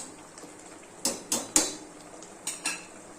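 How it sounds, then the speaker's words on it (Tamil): A pressure cooker lid is shut on a pot of bottle gourd rice with a quick run of close metallic clanks and clicks, about five sharp knocks in two bunches, alone in a quiet kitchen. "இப்போ நம்ம குக்கரை மூடிக்கலாம்."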